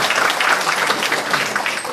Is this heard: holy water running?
no